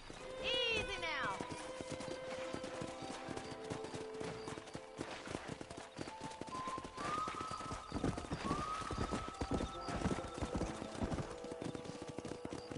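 Horses in the Western video game Red Dead Redemption clip-clop steadily throughout, with a whinny near the start, under game music and sparse voices.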